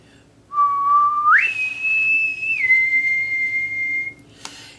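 A person whistles an imitation of a bosun's mate's pipe call: a low held note slides up to a higher sustained tone, dips slightly and holds, clear and close, with no talking.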